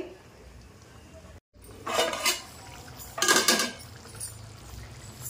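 A lid set onto a cooking pot left to simmer over medium heat, two short clattering metallic bursts of moderate loudness with a quiet pause between them.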